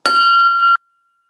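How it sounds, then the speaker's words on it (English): A timekeeper's bell at a school debate gives one bright, clear ding that rings for under a second and then cuts off sharply into silence. "Can I just first of all check both schools can hear the bell?"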